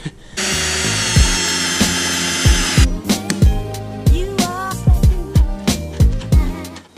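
A power drill whirs in a steady burst for a few seconds, then stops, followed by a run of sharp knocks and clatter close by, while fitting a front end to a Scion FR-S.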